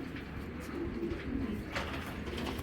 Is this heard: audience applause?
no